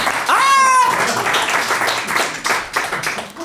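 Podcast audience clapping at a live recording, a burst of hand claps following a short bright whistle-like tone, continuing unevenly with scattered individual claps to the end.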